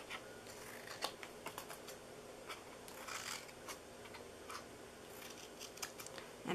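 Scissors cut paper for a flower paper box in a series of quiet, close snips and crisp rustles at an uneven pace, with no talking.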